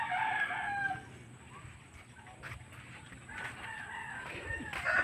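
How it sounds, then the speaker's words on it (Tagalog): A rooster crows and chickens cluck at fairly close range on a small Filipino farm plot where peppers grow, with crowing bursts at the start and end and clucking between them. "baka may manok na naman doon sa binilad natin"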